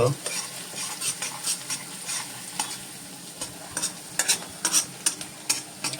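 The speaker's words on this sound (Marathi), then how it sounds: "आता हा कांदा चांगला ट्रान्सलुसंट होईपर्यंत" Onion frying in a pan and stirred until translucent: a continuous low sizzle broken by quick, close spatula scrapes that grow more frequent toward the end.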